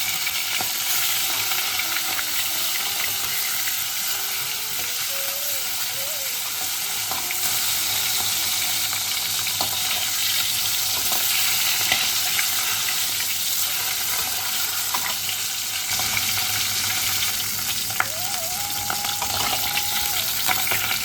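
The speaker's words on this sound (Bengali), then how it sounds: "এবার আমি ইলিশ মাছের মাথাগুলোকে ভেজে নিই" Hilsa fish heads fry in hot mustard oil in a kadai, producing a loud, continuous sizzle that stays dense and even throughout, with faint background tones and no talking.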